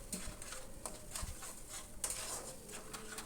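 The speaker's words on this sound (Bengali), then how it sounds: "এবার এই রসুনের পেঁয়াজটা আদা লঙ্কা সাথে আরও খানিকক্ষণ একটু কষিয়ে নিই" Garlic and onion paste with ginger and chilli being sautéed in a pan, with soft stirring scrapes and a few light clinks of a utensil against the pot at a quiet level, no talking.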